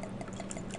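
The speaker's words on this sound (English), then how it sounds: "in this beaker I'm going to pour some water" Water poured into a glass beaker, a steady close liquid trickle and splash with faint bright drips, lasting under a second with no talk.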